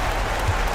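Home crowd cheering from an NBA 2K25 basketball game with the Lakers, a steady dense roar of applause filling the whole short moment.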